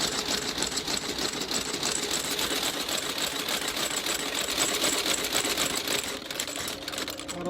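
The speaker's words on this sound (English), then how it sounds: "due to time constraints, we might have to use the outsole stitcher" An outsole stitcher machine stitches the sole of a Whites boot under repair, running as a continuous rapid mechanical chatter at steady loudness for several seconds.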